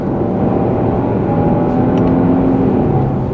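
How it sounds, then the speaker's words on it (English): A 2026 Genesis GV70 Sport Prestige with a 375-horsepower engine accelerates hard, a loud, steady roar mixed with road and wind noise that holds at full strength throughout, with no talking. "this engine is very lively, loads of fun, 375 horsepower, and it sounds really, really good"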